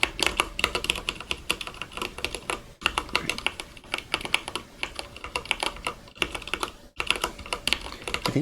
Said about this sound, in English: I think my noise gate doesn't block out my keyboard.